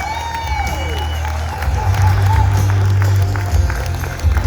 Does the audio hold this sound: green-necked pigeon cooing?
no